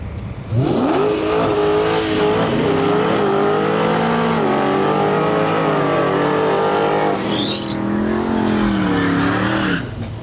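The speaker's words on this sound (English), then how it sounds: "Nice big smoky burnout here in our lane from the Challenger." A Dodge Challenger roars through a smoky burnout at a drag strip, engine revving hard and steady for about ten seconds with rising and falling pitch, tires squealing underneath, close and loud throughout.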